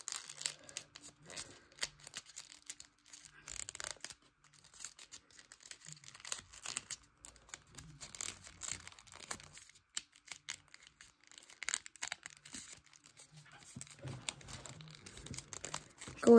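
Paper being folded into an origami spy plane, with soft crinkling and crisp creasing rustles in irregular bursts and short pauses, close and fairly quiet.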